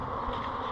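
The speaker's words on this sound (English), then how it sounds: "It's all right that some are flying out, because those aren't nurse bees" A steady, dense buzz of many honey bees flying close by, droning without pause.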